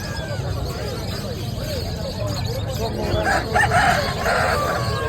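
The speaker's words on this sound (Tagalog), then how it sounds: "Ano naman mga manok na rito, tsaka ibon." Several chickens cluck and a rooster crows amid a busy animal market din in Bocaue, with people talking in the background.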